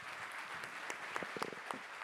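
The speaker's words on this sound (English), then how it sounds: "may we give them a round of applause" Audience applause at an international financial leaders investment summit, a steady patter of clapping from a seated crowd lasting a couple of seconds, with a few sharper individual claps standing out.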